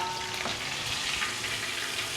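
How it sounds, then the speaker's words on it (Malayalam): Chicken sizzles in hot oil in a pot while chicken pulao is being cooked. A close, steady crackle of frying runs throughout at a soft level, with no talking. "ഞാൻ ആ ഫ്രൈ ചെയ്തതിൻ്റെ ബാക്കി ഓയിലും കൂടെ ഇങ്ങ് ഒഴിക്കുന്നു"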